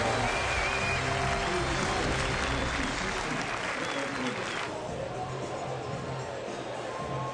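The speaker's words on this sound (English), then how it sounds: "A record crowd at Alex Box Stadium having a whole lot of fun on a Sunday afternoon." A record baseball crowd at Alex Box Stadium cheers and applauds through a Sunday afternoon game against Baylor, a dense, sustained roar that eases slightly toward the end, with a commentator talking over it.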